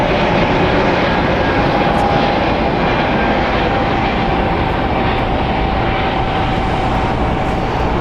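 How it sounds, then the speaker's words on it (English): A 23-year-old Atlas Air Boeing 747-400 freighter takes off from LAX runway 25 right, giving a steady, loud, broadband jet roar that stays constant throughout with no talk over it. "Alice Air Flight 9713 getting cleared for takeoff from runway 25 right to departure to San Diego"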